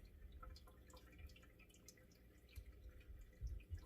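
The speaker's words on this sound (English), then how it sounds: "But you can hear it draining." Whey drains from goat milk cheese curds, making faint, irregular soft drips and trickles at close range over a low background rumble.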